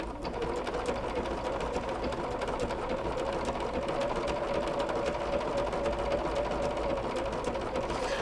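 A sewing machine runs slowly and steadily, doing a blanket stitch around a fusible shadow applique on a quilt, its even close whir holding at one level throughout.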